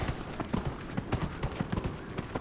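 Hooves clip-clop in a steady, quick rhythm as a mount trots along in the video game Dragon Age: Inquisition, crisp repeated footfalls close by with no talk over them.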